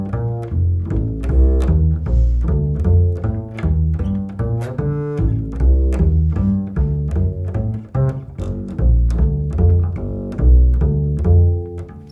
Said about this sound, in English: but if you just played that as a bass line